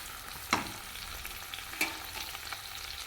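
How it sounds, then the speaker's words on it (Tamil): Crushed garlic sautés in a pan for a mango and moong dal pachadi, giving a steady low sizzle. Two sharp scrapes of a spatula stand out against the frying, one early and one midway. "நல்லா வதங்கட்டும்."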